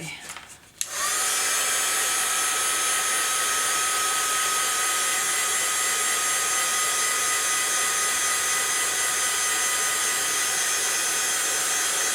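A heat tool or dryer blows steadily and loudly on a pink craft project, switching on after about a second and holding a constant broadband whoosh to the end, with no talking.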